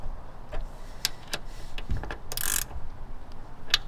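Roof rack bolts on a Toyota 4Runner being tightened for a Prinsu Pro rack install, heard as a few sharp ratchet clicks and metallic taps spaced irregularly over a low background hum.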